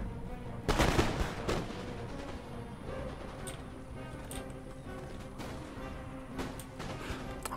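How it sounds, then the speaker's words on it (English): Musket volleys in the battle game Empire: Total War crackle as a ragged burst of overlapping shots, followed by scattered distant gunfire and faint battlefield clatter. "Fire at the camels! Fire a ragtag volley."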